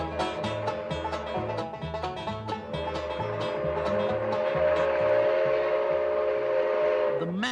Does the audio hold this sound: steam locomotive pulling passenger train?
yes